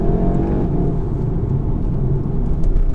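Steady, close engine drone and road rumble from a VW Golf GTI driving along a B road, a continuous low whir that swells slightly near the end with no voices.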